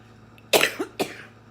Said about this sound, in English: if I could get rid of this freaking cough